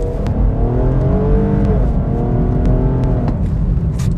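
Infiniti FX35 luxury SUV engine revving up loudly and steadily, a strong continuous rising roar with no speech, close and dominant throughout.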